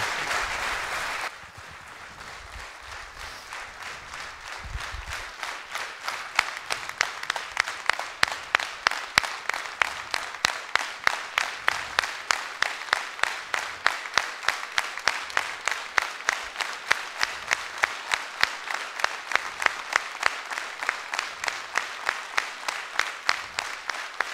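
Applause at a mayor's New Year greetings ceremony in Fourmies opens as a scattered burst, then settles into loud rhythmic unison clapping, evenly spaced claps repeating steadily to the end.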